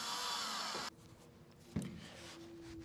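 A power drill drives a tap to cut threads, whining loudly for just under a second before cutting off, followed by a quieter stretch with a single sharp knock and a faint hum.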